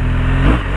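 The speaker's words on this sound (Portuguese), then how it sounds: "Essa moto aqui é zica." A motorcycle engine runs loud and close in a steady, slightly rising rev over less than a second, with no talk.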